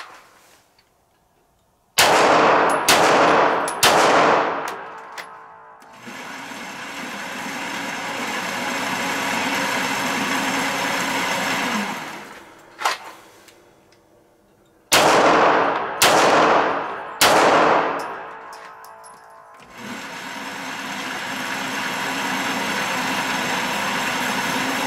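Gunshots ring out during a shooting training drill in two separate bursts of several sharp, loud reports, each burst followed by a long stretch of steady background noise.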